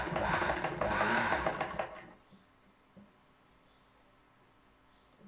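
Sewing machine stitching a homemade cloth bag made from waste cloth, a rapid whirring run for about two seconds before it stops, leaving a quiet room with a faint click.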